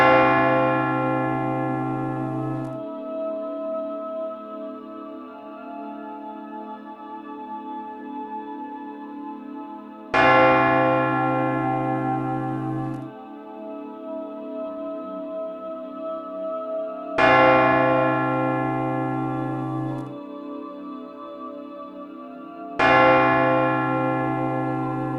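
A church requiem bell tolls slowly, four deep, resonant strikes spaced several seconds apart, each ringing out into a long, humming decay with no talking.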